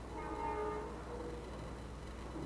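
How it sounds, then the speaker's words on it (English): A train passing near a station, heard as a steady low rumble with a faint horn-like tone early on, moderately distant and continuous throughout, with no talking. "Right by a train station. So many trains,"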